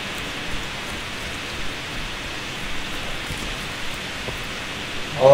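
A steady, soft broadband hiss of a computer fan picked up by a microphone runs through the whole stretch, constant and low, with a few faint small knocks and a brief louder sound at the very end.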